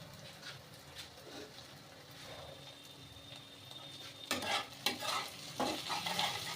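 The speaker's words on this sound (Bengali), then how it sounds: "আর এই পেঁয়াজটা লাল লাল করে না ভাজা হলে কিন্তু একদম ভালো লাগে না।" Onions frying in a home kitchen pan give a steady soft sizzle, with louder stirring scrapes and clatter toward the end; no one talks.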